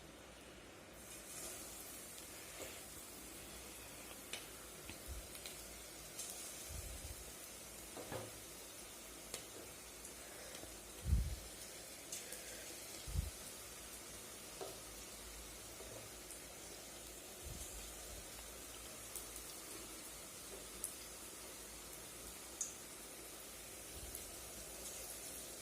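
Bondas deep-frying in hot oil on a low flame, a soft continuous hiss with scattered faint bubbling crackles and a few louder thumps, fairly quiet and steady with no talking.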